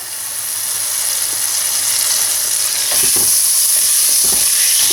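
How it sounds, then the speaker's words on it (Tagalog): Butter melts in a cooking pot on the stove with a steady high sizzle that grows a little louder, joined by a few soft scraping clicks of a utensil near the end. "Dito sa ating cooking pot, tunawin lang natin yung ating butter."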